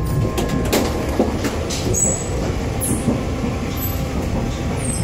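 A JR East limited express train, the Yamadori set, rumbles along steadily toward Shinjuku, wheels clattering on the track with occasional high squeals, loud and continuous with no talking.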